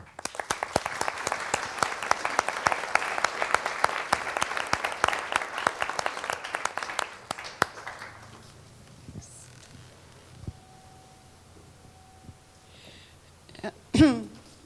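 An audience at an evening talk welcomes a speaker with sustained applause, dense clapping for about seven seconds that tapers off into a quiet room with a few faint stray sounds and a soft cough near the end.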